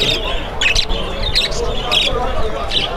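Caged parrots and nightingales chirp and tweet in short repeated bursts over a busy, crowded market background with talking voices.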